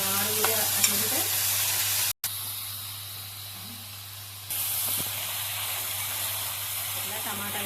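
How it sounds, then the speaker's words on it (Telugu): Tomato pieces for an egg curry sizzle in a hot pan, a soft steady frying hiss close by with light stirring scrapes and a brief cut partway through. "టమాటా ముక్కలు వేస్తాను."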